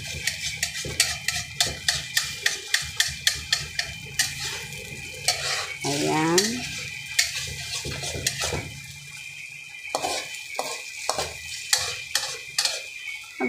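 A ladle stirs dried fish and scrambled eggs in a cracked frying pan, with repeated close metallic scrapes and clinks over a steady sizzle, and a brief spoken word in between.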